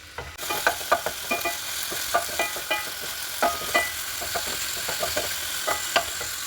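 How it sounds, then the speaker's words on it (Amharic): Chicken pieces fry in oil in a pan, giving a continuous sizzle broken by repeated scraping and stirring knocks at a steady, uneven rhythm, close and fairly loud. "ይሄንን እንጠብሰዋለን።"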